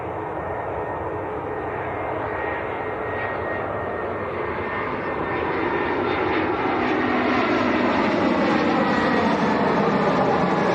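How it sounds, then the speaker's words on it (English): An EasyJet airliner arriving from Malaga roars in on approach to runway 23L at Manchester Airport, a loud continuous jet engine rumble building steadily toward the end with no talk over it. "This is EasyJet from Malaga coming in for a 2-3 left"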